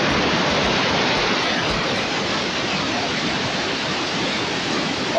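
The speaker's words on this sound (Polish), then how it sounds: "Te wodospady są niesamowite." Victoria Falls roars as a dense, unbroken wash of falling water, loud and steady for the whole stretch with no voices.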